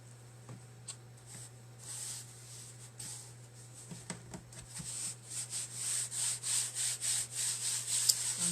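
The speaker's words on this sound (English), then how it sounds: "I'm just rubbing it down where I put the Mod Podge on." Canvas material being rubbed down by hand onto a board coated with Mod Podge, a soft, close, continuous brushing and scuffing that grows steadier and louder over its second half, with no talking.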